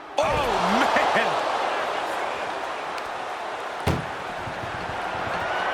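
A heavy metal ambulance door slams shut in a WWE 2K25 wrestling match, one loud sharp bang standing out midway through a busy arena roar, with a commentator talking over the noise.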